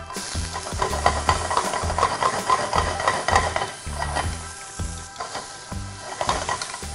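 Noodles stir-fry in a pan with carrot and cabbage, a loud continuous sizzle broken by repeated clanking scrapes of a utensil against the metal, close and without speech.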